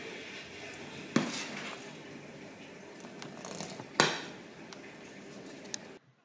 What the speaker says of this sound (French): je viens avec une louche bien mélanger la pâte pour sortir l'air.